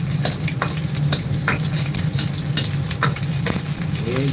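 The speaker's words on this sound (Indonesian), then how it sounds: "Ini bikin nasi goreng ayam ya." Chicken fried rice (nasi goreng ayam) stir-fried in a pan, a steady loud sizzle broken by repeated scraping and tossing strokes of a utensil, close and without talk.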